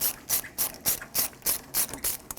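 An 8mm socket ratchet working a radiator hose clamp on a 1996-2002 Toyota 4Runner, a steady run of about eight crisp, evenly spaced clicking pawl strokes, close and quiet with no talk.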